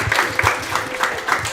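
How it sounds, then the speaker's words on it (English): An audience applauds steadily at a girls' lacrosse state championship celebration, a close, continuous patter of clapping hands with a few louder claps standing out, and no voices. "Can we clap it up for Sis and for Dad?"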